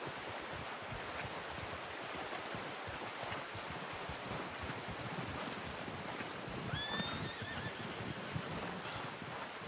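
A horse in the Red Dead Redemption 2 video game neighs briefly over a constant wash of wind and ambient outdoor noise, faint and somewhat distant.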